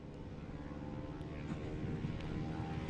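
A STOL airplane's propeller engine at a Rocky Mountain STOL competition drones steadily and gradually builds in power for takeoff, a continuous low hum with even loudness throughout.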